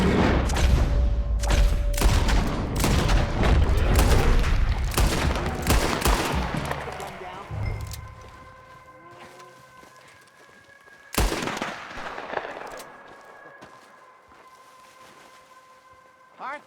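Red Dead Redemption 2 gunfire cracks in heavy, overlapping volleys of close shots that thin out midway, followed by a sharp single blast after a lull; voices shout in between.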